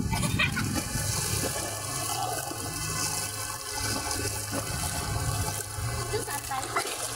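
Steady rush of surf and splashing water fills the scene, with faint voices and movement close by.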